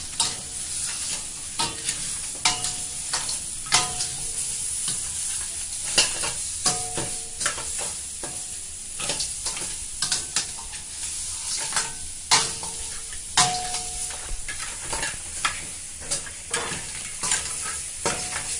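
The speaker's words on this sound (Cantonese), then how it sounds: "之後呢，就落葱啦。 炒勻佢啦" Spring onions and crab stir-fry in a wok, a constant hot sizzle punctuated by frequent sharp metal spatula scrapes and clacks in an uneven rhythm, close and loud, with no talking.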